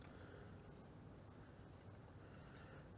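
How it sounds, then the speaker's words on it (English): A Sharpie marker writing on the oil filter of a 2005 John Deere L110 lawn tractor, a faint, soft scratching and squeaking of the felt tip in short strokes over quiet background noise. "I'm going to write the date and number of hours on that oil filter"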